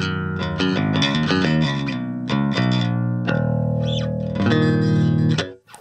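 Bass guitar played through a cheap bass amp on its clean Studio Clean preset, a run of plucked notes and sustained tones with a full, even low end and no talk.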